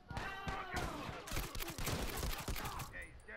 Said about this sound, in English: Oh, he's using a shotgun.